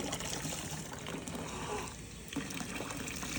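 Hot water runs from a kitchen tap as sponges are rinsed during cleanup, a steady close trickle and gush that fills the whole clip with a brief dip partway through.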